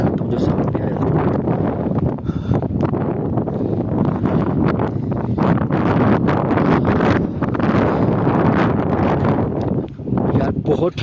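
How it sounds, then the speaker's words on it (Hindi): Strong, cold winter wind buffets the microphone at Babusar Top, a snowy mountain pass, in a loud continuous roar with gusty swells, and someone talks under it. "यार, बहुत ठंडी हवा चलती है इतनी स्पीड में कि यकीन जाने, थप्पड़ ठंडी हवा।"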